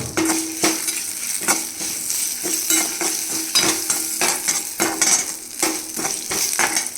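Steady crackling sizzle of dried red chilies and curry leaves frying in hot oil, with occasional scraping and stirring sounds from a spoon against the pan, close and continuous.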